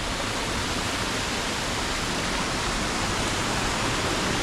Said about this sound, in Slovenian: Na prvi manjši slapič